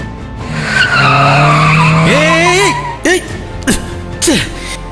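A car skids to a sudden halt in a near collision, a long loud tire squeal sliding in pitch for about three seconds, followed by short sharp bursts of noise close by.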